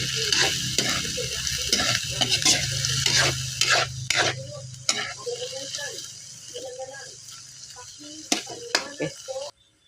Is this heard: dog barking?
no